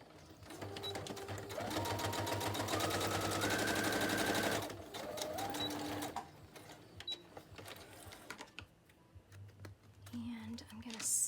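A sewing machine stitches the spine of a scrappy soft-spine journal, running in a fast rattling burst, then shorter runs and pauses with small handling clicks, close and fairly quiet.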